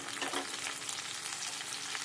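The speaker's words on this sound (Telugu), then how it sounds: "మెంతులు వేగాయి కదా నూనెలో, మెంతులు మినపప్పు వేగింది కదా" Fenugreek seeds, urad dal, onion and curry leaves fry in hot oil with a steady, dense crackling sizzle that holds at an even level throughout, close by and without any voices.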